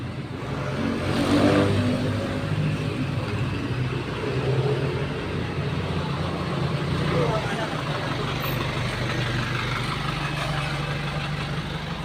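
A car rolls along a street past people standing in the road, a loud continuous engine rumble and road noise that swells and fades slightly. People talk over it.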